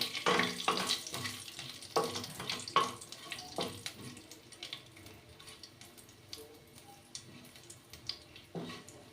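Cumin, dry red chilli and bay leaf temper in hot oil, giving a light, close crackle with scattered pops and a clatter or two that fade into a softer sizzle.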